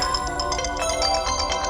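A phone ringtone plays in a Telugu movie scene, a loud, steady electronic melody with repeating pulses that fills the whole moment without any voices.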